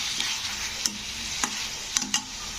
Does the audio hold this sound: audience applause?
no